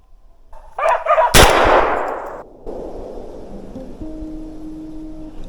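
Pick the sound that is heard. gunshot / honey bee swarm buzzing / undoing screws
gunshot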